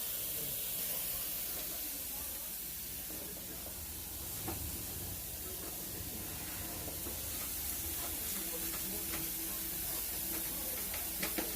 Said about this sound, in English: You just give them a stir.